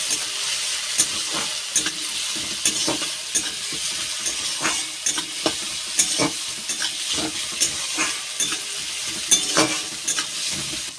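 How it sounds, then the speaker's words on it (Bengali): Chopped tomatoes with salt frying in a pan for a mustard rohu fish curry, a steady sizzle broken by repeated scraping stirs in an irregular rhythm, close and moderately loud. "এইবার ভালো করে ভেজে নেব।"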